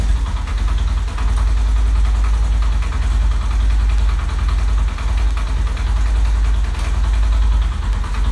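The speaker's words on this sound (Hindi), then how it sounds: "बाइक स्टार्ट है, आइडियल स्पीड पर खड़ी हुई है" A motorcycle fitted with a brake-linked back light sits idling after being started, its engine holding a steady, continuous low rumble at a constant level throughout, with no speech.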